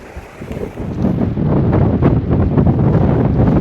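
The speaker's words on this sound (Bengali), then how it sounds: "প্রচন্ড হাওয়া।" Strong wind at a clifftop lighthouse viewpoint buffeting the microphone in a loud, continuous roar that builds after the first second and stays heavy throughout.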